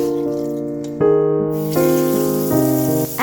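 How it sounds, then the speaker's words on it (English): Water poured from a saucepan after boiling eggs, then cold water running in to refill it, a steady gushing flow with tonal ringing that shifts in pitch in steps as the pan fills, close and fairly loud. "throw the water and change to cold water."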